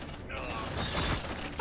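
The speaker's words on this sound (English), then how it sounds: "Focus fire on target!" Squad gunfire erupts in a shooter game as a brief, dense burst of rapid shots blended into loud combat noise. Voices shout over the fire.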